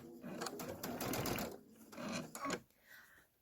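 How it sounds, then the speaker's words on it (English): A sewing machine running a center straight stitch on a chambray tote with a dual feed foot, a fast buzzing whir in two bursts with brief pauses, close up, while someone talks over it. "I'm set to a center straight stitch. And let's go ahead and put this through, and we're just going to sew that."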